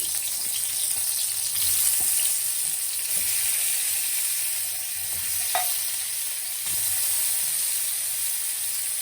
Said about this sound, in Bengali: এই তেলটা গরম হয়ে গেছে এখন এই পটলটা ভাজা করে আনিমু